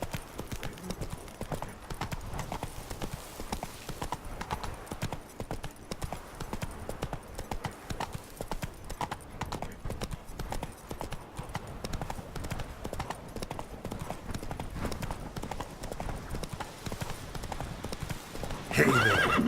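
Horse hooves clip-clopping steadily at a trot in The Witcher 3 video game, a dense continuous patter with neighing mixed in, moderately close, running without a break throughout.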